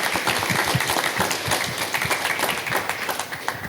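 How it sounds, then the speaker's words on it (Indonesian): An audience at a graduation ceremony for a nursing academy in Merauke claps together, a dense, continuous round of applause from a crowd at moderate distance. "Tepuk tangan dulu untuk Pak Saljan."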